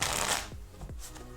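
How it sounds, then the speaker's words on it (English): A deck of playing cards being riffle shuffled at full speed: a dense, crisp flutter of cards, then a couple of soft bridging slaps as the deck settles, heard close and alone. "So that's the Riffle shuffle."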